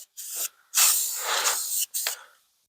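Several hissing bursts from a spray can of paint on a new car bumper and frame rails, close by, with short pauses between sprays and one long continuous spray in the middle.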